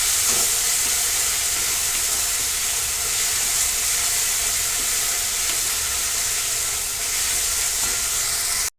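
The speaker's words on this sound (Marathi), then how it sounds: "टोमॅटो देखील आपण व्यवस्थित तेल सुटेपर्यंत व्यवस्थित भाजून घेणार आहे" Tomatoes frying in oil in a pan give off a loud, dense, continuous hiss and sizzle, steady from start to finish with no voices over it.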